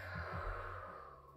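A slow exhale through the mouth during a seated chair stretching exercise, soft and close, one long breath out with a faint airy hiss trailing off.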